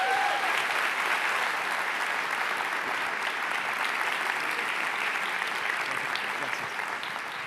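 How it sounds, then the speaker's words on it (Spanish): A large audience at a conference in Miami claps warmly to welcome a speaker, a steady, full round of applause that holds evenly throughout and fades slightly at the very end, with no voices over it. "si pueden recibir con un caluroso y fuerte aplauso a Agustín Laje esta mañana en Presencia Viva"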